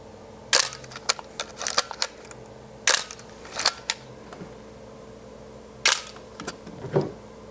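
A series of crisp mechanical shutter clicks from a film SLR camera, fired in irregular bursts with short quiet gaps between them.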